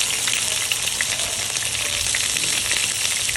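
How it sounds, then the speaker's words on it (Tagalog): Milkfish fries in very hot oil in a pan, a dense, loud, continuous crackling sizzle that holds steady throughout with faint stirring underneath. "painitin mo na yung mantika, yung masyadong mainit talaga, para hindi dumikit yung bangos sa kawali"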